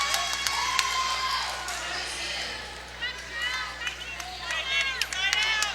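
Crowd noise at a girls high school volleyball match between Seton and Mason, loud cheering and shouting in a gym with squeaking shoes, rising in bursts under a commentator's voice.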